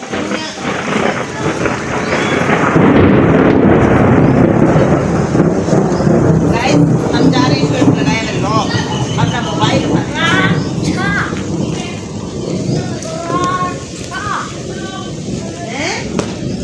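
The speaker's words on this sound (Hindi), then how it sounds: "बारिश फुल तेज हो चुकी है" Heavy morning rain with thunder, a loud continuous wash of downpour with a deep rumble building early on, while people talk close by over the storm.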